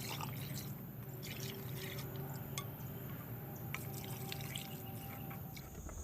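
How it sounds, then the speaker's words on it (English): Vinegar and water solution poured through a small funnel into pickle jars, a steady close trickle of liquid with scattered drips and splashes throughout. "We're going to fill them all up with this vinegar and water solution."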